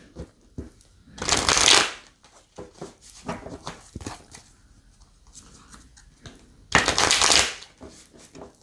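A Light Seers Tarot deck is riffle-shuffled close up in two loud, fluttering bursts some five seconds apart, with soft taps and card handling between them.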